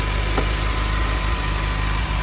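A 1977 MGB's 1800cc four-cylinder engine with twin SU carburettors idles steadily up close, a smooth continuous rumble with a faint vibrating hum and no talking.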